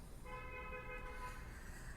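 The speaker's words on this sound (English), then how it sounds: "Sorry if you can hear honking in the background." A steady car horn honks faintly in the distance, one sustained tone of about a second and a half against a quiet background.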